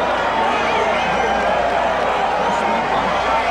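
Ringside boxing crowd at the Muhammad Ali versus Trevor Berbick fight, a constant loud roar of many voices with no letup, under a commentator talking.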